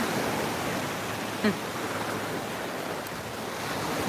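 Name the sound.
ocean waves on the beach at Deerfield Pier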